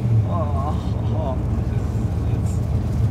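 An AC Cobra's engine burbles steadily at close range, with brief talk over it early on.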